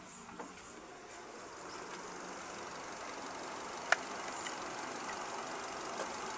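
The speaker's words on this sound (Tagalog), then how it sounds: "Ibig sabihin niya nag-engage na yung motor." Nissan Almera air conditioning compressor clutch engaging with one sharp, faint click partway through, under a low, steady engine idle hum, no voices.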